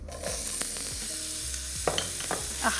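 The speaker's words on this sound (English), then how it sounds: "To that oil, I'm going to add some onion." Onion hits hot oil for Filipino kare kare and sizzles, a close, steady frying hiss with scraping stirs and a few clinks from the spoon, no voices.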